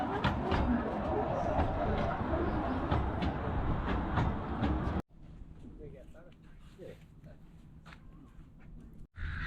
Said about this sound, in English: we'll go to the end. A little train.